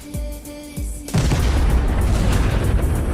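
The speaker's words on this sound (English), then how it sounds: "the missiles going off." HIMARS missiles explode. Two short dull thumps come first, then a sudden massive blast that becomes a sustained, loud roaring rumble lasting to the end.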